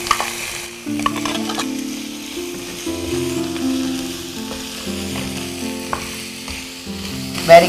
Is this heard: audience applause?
no